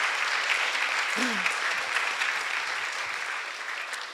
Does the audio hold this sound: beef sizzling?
no